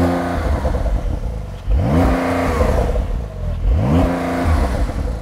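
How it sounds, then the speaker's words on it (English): A stationary car with a £2,180 sports exhaust system is revved twice, each blip rising quickly to a soft limiter and falling back to a rumbling idle, loud and close with no talking. "Start the car up, give it some revs."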